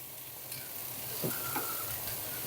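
Red bell pepper added to translucent onions in a hot pan gives a quiet, steady sizzle with a few faint clinks of a utensil, close and without voices.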